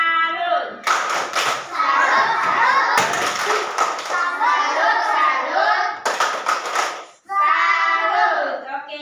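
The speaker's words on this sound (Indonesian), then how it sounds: "Tepuk salut." A group of children performs a rhythmic salute clap in unison during a class or scout activity, with repeated bursts of clapping mixed with chanting voices, close and loud.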